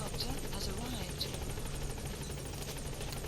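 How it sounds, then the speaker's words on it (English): Support helicopter arriving in the Metal Gear video game, a steady rotor drone and buzz that holds throughout at a constant, fairly loud level, with a voice speaking over it. "Support helicopter has arrived."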